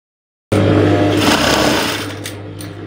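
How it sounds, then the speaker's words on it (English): Sewing machine running steadily while stitching a boning channel in a Victorian corset, a close, continuous motor whirr and needle hum lasting a few seconds, easing off slightly toward the end with no talk. "after sewing the first one, you go over to the other one also, and then you sew"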